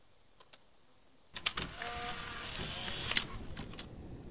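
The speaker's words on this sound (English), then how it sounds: "That sounded like a printer." A whirring, grinding mechanical noise like a printer in the horror video game Cry of Fear, running for about three seconds after a couple of faint clicks, then winding down.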